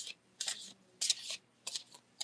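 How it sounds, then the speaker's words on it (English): Oracle cards are shuffled close by in short, crisp papery bursts, about five quick riffles separated by brief pauses. "The sound of me shuffling is therapeutic to my ears."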